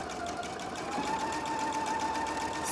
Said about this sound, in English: Then I'm going to bring it back to the sewing machine and I'm going to sew along that edge